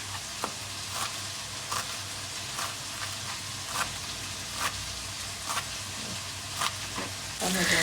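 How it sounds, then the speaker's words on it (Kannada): Capsicum and other vegetables with salt and turmeric fry in oil, making a steady close sizzle and hiss punctuated by regular light scrapes of stirring, with no talk over it. "ಕ್ಯಾಪ್ಸಿಕಮ್ನ ಹಾಕ್ಕೊಂಡು ಆಯಿಲಲ್ಲೇ ಚೆನ್ನಾಗಿ ಫ್ರೈ ಮಾಡ್ಕೊಳ್ಳೋಣ."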